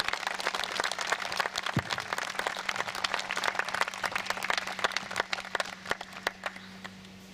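Wedding guests applaud at an outdoor secular ceremony at a château, a steady patter of many hands clapping at a moderate distance that holds for several seconds and then thins out.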